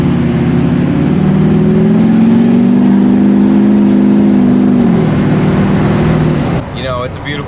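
GM truck engine running with a deep, loud, droning tone that rises and settles over several seconds, close up, before a voice cuts in at the end.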